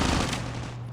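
Rapid automatic gunfire from Call of Duty Mobile during ranked close-quarters combat, a dense loud burst of shots with a steady low hum underneath, no talking.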